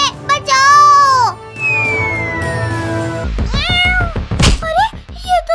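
Cartoon cat meowing in a series of drawn-out, high-pitched cries, loud and close, broken by a gliding tone, a low thump and another short run of mews.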